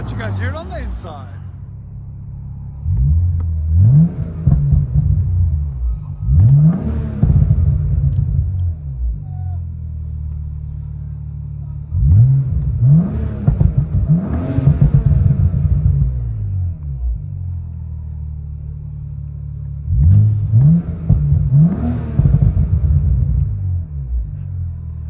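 A built twin-turbo BMW 335xi 3.0L inline-six with a VRSF downpipe and Borla S-Type exhaust, heard from inside the cabin: a deep droning rumble with three rising revving surges, loud and close, with a voice talking over parts of it.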